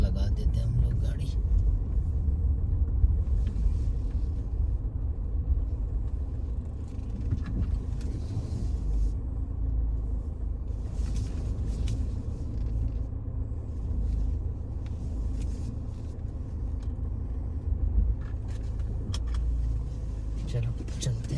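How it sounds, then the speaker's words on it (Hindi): A car is driven slowly into a parking spot near a mosque in the UK, giving a steady low engine and road rumble with faint interior clicks and rattles throughout, and speech heard over it. "इधर लगा देते हैं हम लोग गाड़ी।"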